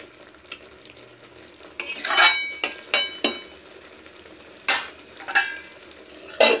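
Jackfruit and prawn curry stirred in a pot after garam masala is added, bursts of spoon scraping and clattering against the metal over a low simmering sizzle, in irregular strokes up close; no speech.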